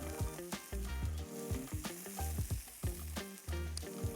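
Sausages fry in a pan with a loud, steady sizzle and crackle, broken by frequent scraping and clattering knocks as they are moved around.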